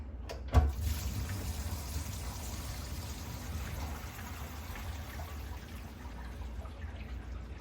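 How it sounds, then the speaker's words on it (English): Water drains from a newly tiled shower after a sharp knock at the start, then flows as a soft, steady, faint trickle and rush that continues evenly throughout. "There we go, she drained."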